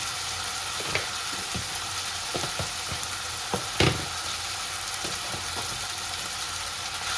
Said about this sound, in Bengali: এই মশলাটা ভালো করে ভেজে নেব।